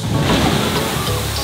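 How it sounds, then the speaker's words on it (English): A loud, steady roar of rushing, spraying water as a Jurassic Park River Adventure boat plunges down the final big drop at Islands of Adventure, Universal, with no voices. "you can watch the riverboats come down that last big hill after they see the T-Rex, and the water goes everywhere"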